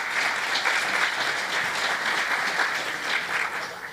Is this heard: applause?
yes